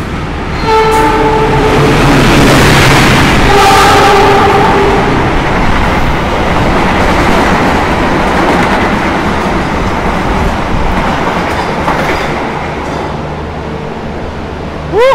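An Argo Lawu passenger train rushes past close by with a loud steady roar, horn blasts sounding early on, and the rumble gradually easing toward the end.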